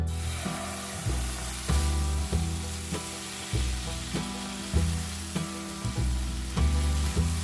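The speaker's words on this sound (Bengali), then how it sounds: "এবার এই তেলের মধ্যে প্রথমেই যে অর্ধেকটা পেঁয়াজ আমি পেস্ট করে রেখেছিলাম সেটা দিয়ে দেব।" Onion paste frying in hot oil for Bengali ilish fish korma, a constant sizzling hiss close up, with a tonal, rhythmic musical backing that pulses in regular beats throughout.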